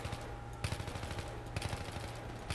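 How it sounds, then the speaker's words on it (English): Soldiers' rapid gunfire in Battlefield 3, with quick bursts of automatic shots rattling in short clusters over a steady hum, fairly faint and distant. "I'm sorry, but you are shooting us."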